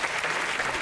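A short burst of dense audience applause from a studio crowd at a French television show, steady and fairly loud for under a second with no voices over it.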